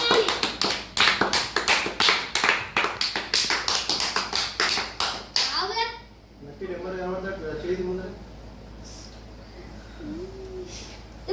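Rapid clapping by a group during a sweet eating challenge, a fast steady run of sharp claps for about five seconds that stops abruptly, followed by people talking.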